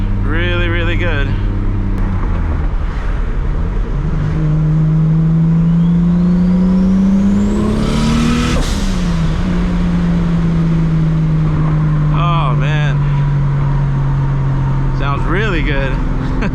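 A 750-horsepower MKIV Toyota Supra engine revs hard on a test drive, rising in pitch to a loud peak, then dropping back to a steady drone, with brief engine bursts near the start and end, close and loud throughout.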